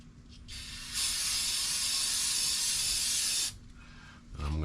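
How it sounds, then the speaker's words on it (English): Brake cleaner sprays from an aerosol can onto a rag in a loud, steady hiss lasting about two and a half seconds, with quieter short bursts before and after. "I am now going to take some brake clean,"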